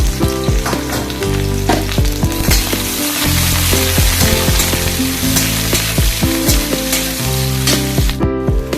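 Onions and spices frying in a pan, a steady loud sizzle running throughout with a tonal music bed playing over it.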